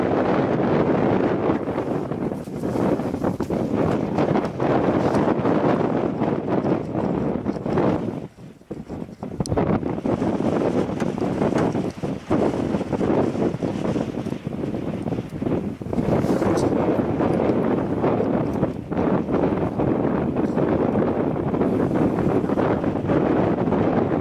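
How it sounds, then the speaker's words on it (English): Wind buffets an outdoor camera at an airport, a loud continuous rushing roar with gusty swells and a brief lull partway through, no talking. "So the wind is blowing my camera around quite a bit."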